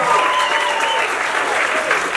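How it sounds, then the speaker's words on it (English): An audience claps and cheers in a steady, dense wash of applause, loud and sustained throughout with no break. "Give her a round of applause"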